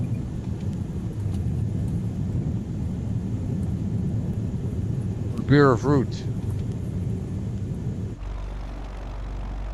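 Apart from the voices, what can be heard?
airplane engine flying in a video game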